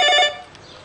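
A telephone rings in one short electronic burst with harmonic tones, heard close and clear with no voices, then fades into quiet room tone.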